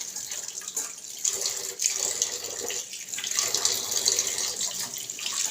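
Tap water runs steadily into a sink while dishes and spoons are washed, a moderately close hissing splash with a few soft clinks and shifts in the flow.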